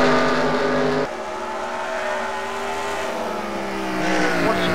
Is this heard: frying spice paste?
no